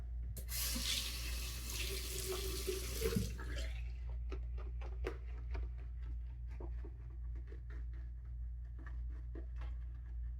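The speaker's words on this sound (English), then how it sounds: "A little bit more water." A bathroom tap runs into the sink during a straight-razor shave, a loud steady gush for about three seconds that then cuts off, leaving faint clicks and light taps in a quiet room.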